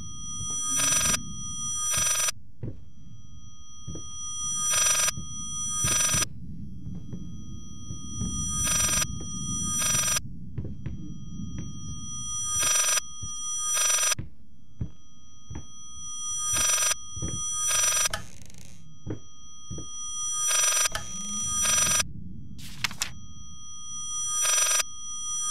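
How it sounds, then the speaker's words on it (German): An old-style telephone bell rings in the Layers of Fear video game, repeated pairs of bright metallic trills in a regular pattern over a low, dark ambient drone, with occasional thuds in between. "Telefon?"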